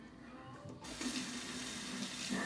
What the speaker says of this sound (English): For rinsing your razor